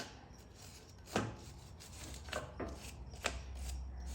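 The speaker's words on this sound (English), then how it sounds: "just take a cheap wire brush" Cheap wire brush scrubbing dirt and grease off Craftsman YT3000 riding mower steering parts: a few quiet, separate scraping strokes, close and faint, with no voices.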